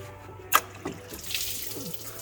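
Coolant pouring from the removed thermostat housing of a Nissan 350Z and splashing onto the ground with no drain pan beneath: a brief sharp splash, then a soft steady trickle close by.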